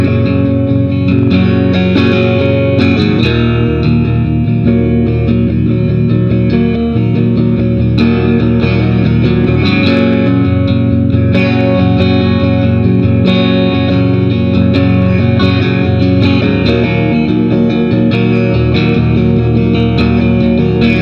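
A Fender Vintera 60s Mustang electric guitar played through overdrive with a touch of reverb gives a loud, continuous, gritty run of strummed chords and notes, alone without talk.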